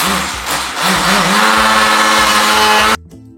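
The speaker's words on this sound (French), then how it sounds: "on va aller à la bonne vieille méthode avec un mixeur plongeant" An immersion blender whirs steadily through vegan wild garlic pesto, its motor whine loud and close, then cuts off abruptly near the end.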